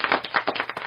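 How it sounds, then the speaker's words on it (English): A few people clap hands briefly to welcome a guest on an evening live show, quick uneven claps close by, lasting under a second. "Let me get the clapping going."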